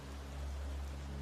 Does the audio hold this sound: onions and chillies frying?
no